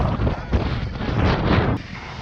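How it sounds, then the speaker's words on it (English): Wind gusting across a high mountain pass, a loud, rough roar buffeting the microphone for a couple of seconds before easing slightly. "Look at that wind blowing."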